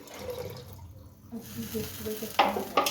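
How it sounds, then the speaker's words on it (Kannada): Water pours into a pot of kara pongal already mixed with green chili paste, a brief splashing trickle heard toward the end under a person talking. "ಈಗ ನೀರು ಹಾಕೊಳಕತ್ತೀನಿ ನೋಡ್ರಿ"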